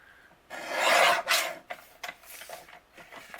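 A paper trimmer blade slides through a sheet of cardstock in one smooth rasping swipe, followed by a few lighter scrapes and taps as the paper is handled, close and quiet with no speech.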